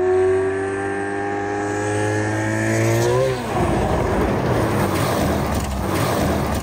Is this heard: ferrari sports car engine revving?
yes